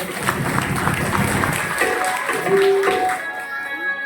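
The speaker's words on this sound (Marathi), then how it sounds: "सर्वप्रथम स्वतःसाठी एकदा जोरदार टाळ्या वाजवा" An audience at a ceremony bursts into dense, sustained clapping, a steady wash of many hands close by that thins out toward the end.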